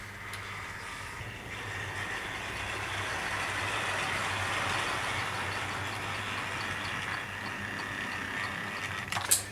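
A model Pacific locomotive of the Britannia Class 7 type backs its coaches over model railway points, giving a steady, even rolling hum with a few faint clicks at the end.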